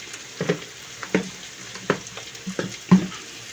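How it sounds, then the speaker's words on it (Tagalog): Coconut milk being poured into a pot of simmering sinantolan, a Filipino santol dish in gata, with soft bubbling and several short splashing and stirring clatters spaced irregularly, close by. "Lagay po natin yung pangalawang gata."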